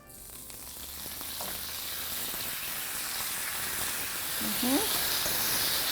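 Sandwich filling, browning for about fifteen seconds a side after tofu, fries in a pan with a loud, even high sizzle that grows slightly stronger, with a brief murmur of voice near the end.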